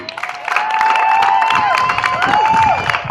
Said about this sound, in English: A round of applause, please, for Angie Capretti.